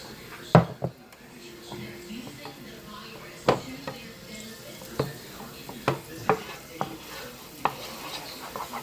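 Beef cooking in a pot for pot pie, with a low sizzle beneath scattered scrapes and clanks of a utensil stirring against the metal, several sharp knocks spread across the stretch.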